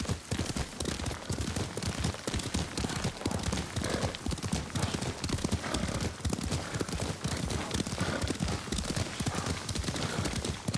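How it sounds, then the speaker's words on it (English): Horse hooves clip-clop at a brisk, continuous rhythm while riding in the video game Ghost of Tsushima, loud and close throughout, with an occasional whinny mixed in. "Lord Sakai taught me to ride a horse."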